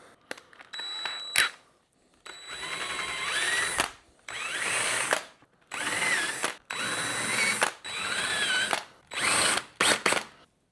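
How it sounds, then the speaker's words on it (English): A power drill countersinks a hole in bamboo with an 11/32 bit, whirring in about eight separate bursts of a few seconds each, close and clear with short silent gaps between, no voices. "I take a drill bit. It's roughly the same size, and that should make a nice little countersink for this"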